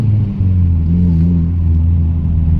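A car on a test drive just after a tune-up gives a steady, close, low engine rumble with a slight rise in pitch early on, with no talk over it.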